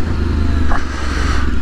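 Close, loud roar of a 2024 Yamaha Tenere 700 motorcycle pushing slowly through flood water in second gear, a steady broadband wash of spray and engine noise with a brief clatter midway.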